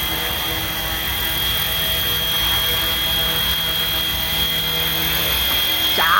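An RC 3D helicopter landing on its own, its rotor and motor giving a steady loud whir that holds throughout, close, with a brief rising sweep at the very end.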